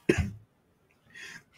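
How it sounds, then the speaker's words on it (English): Two short coughs about a second apart, close and fairly loud, the first with a harsh throaty burst, no talking around them. "Sorry, that's just my subconscious coughing."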